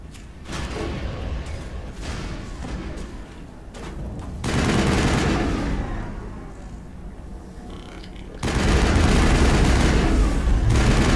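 Missile explosions hit the player in Mass Effect, with repeated booming blasts and crackling gunfire-like bursts over a dense rumble, the loudest impact landing near the end.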